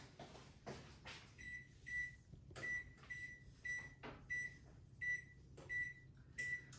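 An oven control panel gives repeated short electronic beeps while the temperature and timer are set, about a dozen sharp beeps mixed with soft button clicks and faint kitchen room tone.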